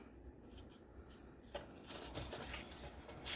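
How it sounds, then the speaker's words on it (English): Scissors cut paper for a file folder, faint snipping and rustling close by, with a few sharper crisp cuts toward the end. "All right, let's cut off that much."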